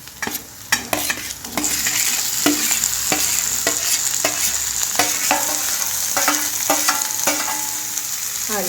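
Boiled potatoes are tipped into onions frying in a pan and stirred, a steady sizzle broken by repeated sharp scrapes and clacks of the spoon.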